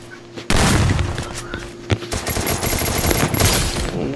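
Rapid bursts of gunfire crackle loudly and almost continuously, with a few heavier booms mixed in, sounding like fast automatic weapons fire.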